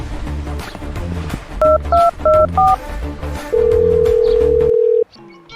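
Four quick keypad tones beep in succession, then a steady dial tone hums for over a second and cuts off, over background music.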